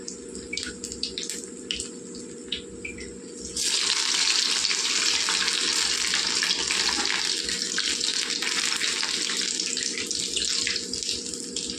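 Spinach vadas (garelu) fry in hot oil, starting with faint crackles and then breaking into a loud, continuous bubbling hiss after the batter goes in.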